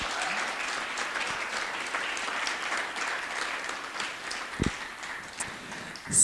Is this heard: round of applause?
yes